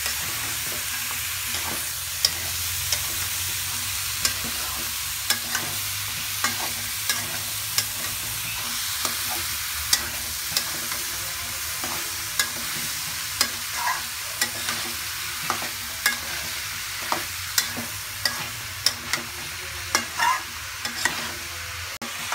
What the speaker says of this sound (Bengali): আমি যে কিউব করে আলুগুলো কেটে রাখছিলাম, প্রায় 1 কেজির মতো আলু, ওটা দিয়ে মশলা দিয়ে আমি আলুটা কষাচ্ছি।